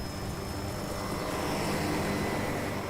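Helicopters in the video game Parasite Eve give off a steady, even rotor and engine drone, a continuous broadband roar that stays level throughout.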